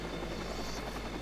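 A helicopter in the video game Watch Dogs gives a steady, loud, close rotor drone with a dense buzzing texture that holds unchanged throughout.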